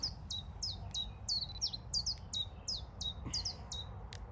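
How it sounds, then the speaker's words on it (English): Chiffchaff singing near a lake, a clear run of about a dozen bright, evenly spaced chirping notes in its repeated two-pitch pattern, fairly close over a low, soft background hum. "this is a chiff-chaff and we heard them everywhere"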